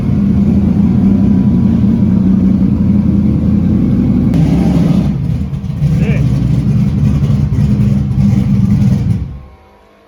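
A right-hand-drive car fitted with a 98mm turbo runs loud and steady on a dyno, its engine drone holding nearly constant before a brief dip and then cutting off sharply near the end.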